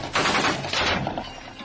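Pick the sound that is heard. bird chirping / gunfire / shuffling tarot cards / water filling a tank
gunfire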